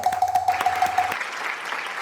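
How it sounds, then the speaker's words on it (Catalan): An audience at a children's show applauds in quick, rapid clapping. A tone sounds over the first half, then the clapping thins into softer scattered claps. "Un fort aplaudiment!"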